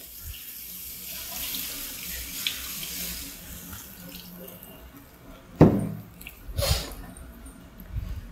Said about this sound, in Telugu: ఇప్పుడు చింతపండు పులుసు పిసికి దీంట్లో వేసుకున్నాను ఇప్పుడు చేపల్లో వేస్తున్నాను